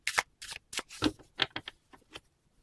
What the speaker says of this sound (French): je vais prendre 3 cartes.